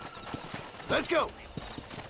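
Short bursts of horse hooves and a brief whinny in the middle, set in the Red Dead Redemption video game, with a voice talking faintly alongside.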